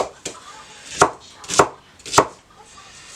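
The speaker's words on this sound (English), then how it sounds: "So these basically just got to be chopped up." Knife chopping onion on a board, three clear sharp chops with a fainter one before them, spaced unevenly and close, with no talking.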